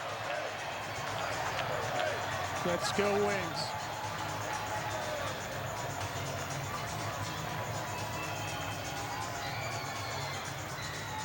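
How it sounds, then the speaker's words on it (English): Home crowd at a Philadelphia Wings NLL lacrosse game against the Las Vegas Desert Dogs in South Philadelphia, a steady roar of noise and chanting that swells briefly, with a nearby voice shouting over it. "And you hear the crowd here in South Philly."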